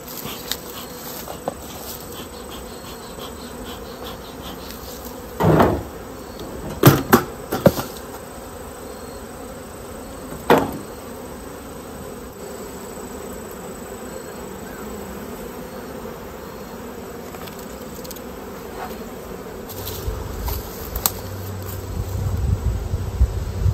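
Honeybees in a strong hive infested with hive beetles hum in a steady, dense drone up close, broken by a few sharp knocks and bumps of the hive being handled.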